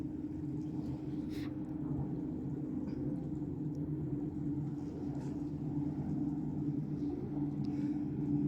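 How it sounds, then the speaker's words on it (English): Speedboats race past off a Maldives island resort, their engines a steady low droning rumble held at a distance throughout, with no talk over it. "the silence has been broken by the speedboats"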